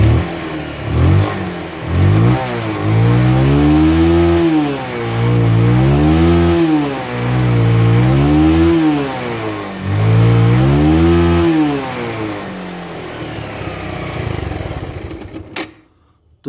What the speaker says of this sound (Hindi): तो मैं एक्सीलेटर ज़्यादा ले रहा हूँ।